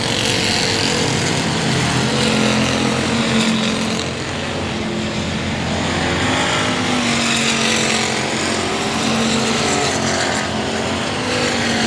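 Pure stock race cars lap I-37 Speedway in a steady, loud roar of engines that swells and fades as the field circles the oval, with no voices over it.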